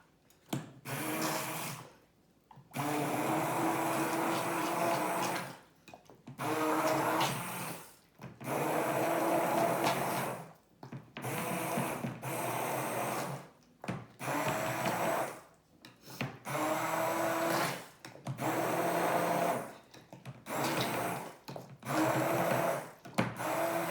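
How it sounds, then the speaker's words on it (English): A small personal blender, NutriBullet-style, whirs through Alfredo sauce in about eight loud, steady bursts of a few seconds each, separated by short pauses. "I'm just gonna stick this in and blend away"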